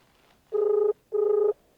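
A telephone ringback tone heard during a phone call: two clean buzzing bursts of equal length separated by a short gap, fairly loud over a quiet background with no talk.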